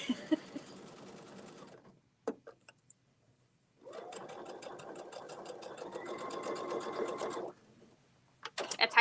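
A sewing machine fitted with an edge stitch foot runs in two long stitching bursts of fast rhythmic clatter, close and loud, separated by a pause with a few clicks.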